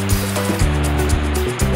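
Heavy rain pours down in a loud, steady rushing wash, with a low droning hum running beneath it throughout.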